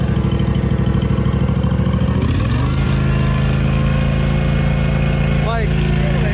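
A John Deere GT245 lawn tractor engine running rough with suspect timing, knocking hard in a loud, continuous chug that shifts pitch partway through and then holds steady.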